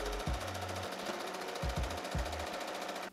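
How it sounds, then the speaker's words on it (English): A sewing machine stitching along the boning lines of a corset top, short mechanical bursts of rapid stitching separated by brief pauses, heard close and fairly quiet. "I'm just going to sew down either side of these lines."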